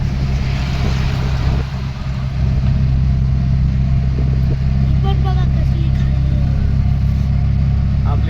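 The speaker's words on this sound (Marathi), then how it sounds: "धुक्यातनं गाडी चालवायला. हां, त्यामुळे गाडी सावकाश हळूहळू." A car rolls slowly along a foggy road on the way to Mahabaleshwar, its low steady engine hum and road rumble constant and close throughout, with faint brief sounds near the end.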